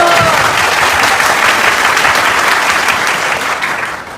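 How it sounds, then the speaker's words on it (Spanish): A church audience at a religious debate gives a loud, close round of applause, dense and even throughout before fading slightly at the end. "aplauso para él"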